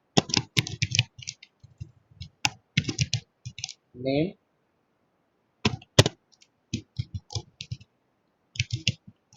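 Fingers tap a computer keyboard in quick clattering bursts of key clicks with brief pauses, close by, while a voice speaks briefly in the middle.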